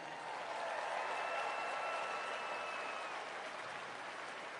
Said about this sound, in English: give yourself a round of applause right now.